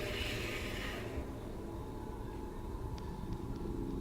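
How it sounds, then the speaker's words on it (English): A car passes at a distance outdoors at night, its low rumble swelling and fading over a few seconds, faint and with no talking. "You hear another car?"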